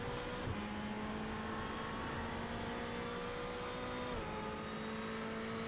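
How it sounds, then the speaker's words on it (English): The Ferrari turbo engine of a sim racing car in a racing game at Okayama International Circuit whines steadily at high pitch, dipping briefly with gear shifts before holding a sustained, close roar. "The roar of the Ferrari turbo engine"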